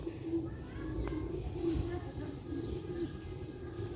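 A Sialkoti black-faced pigeon gives faint, low, drawn-out coos in a steady repeating pattern, with someone talking over it nearby.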